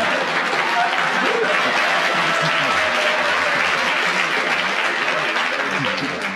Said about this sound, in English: how much it's appreciated by the audience. They clap spontaneously.